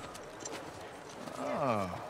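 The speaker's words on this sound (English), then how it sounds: "It's a cute horse." Horse hooves clip-clop in the video game The Last of Us Part II, a light, close rhythm of steps. A drawn-out voiced, whinny-like sound swells over them near the end.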